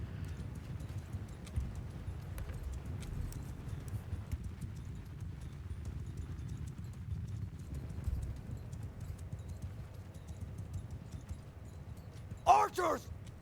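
Cavalry galloping in Mount & Blade II Bannerlord, a low, steady rumble of many hooves at a distance, faint and continuous, with a short horse whinny near the end.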